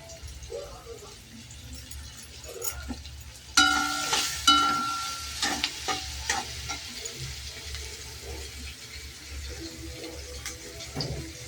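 Finely chopped medium onion frying in a pan, a steady sizzle joined midway by louder scraping and stirring knocks that gradually settle, with faint speech in the background.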